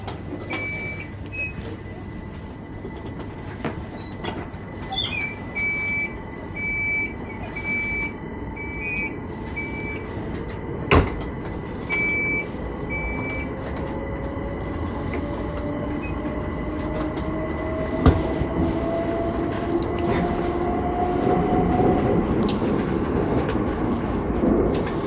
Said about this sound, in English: This is the Heathrow Express train to London Paddington.